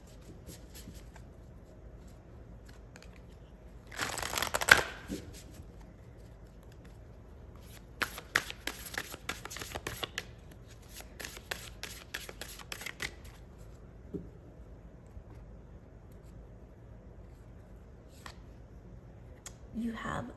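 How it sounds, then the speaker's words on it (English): Oracle cards shuffled by hand in a quiet room, a few soft riffling bursts, one brief louder flurry early on, then longer clusters of quick card flicks. "So let's pull some more cards."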